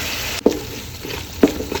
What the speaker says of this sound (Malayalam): ജസ്റ്റ് ഒന്ന് പൊരിച്ചെടുത്താൽ മതി.